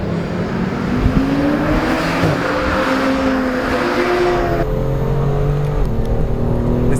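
A 2016 BMW M2 revving hard on a race track, engine note climbing steadily through the gears with a loud, continuous rasp and a brief drop at a shift, heard from inside the car with no talk.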